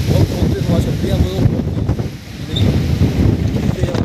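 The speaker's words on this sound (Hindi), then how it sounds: "कितनी तेज़ हवा चल रही है इधर" Strong wind buffets the microphone on a bridge over the Ganges at Rishikesh, a loud continuous low rumble with gusts that ease briefly midway before surging again.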